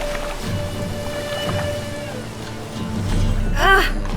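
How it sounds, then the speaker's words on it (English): Rain falls steadily in a medieval fantasy setting, a constant wash of patter under faint background voices, swelling slightly louder near the end. "It just rains and rains."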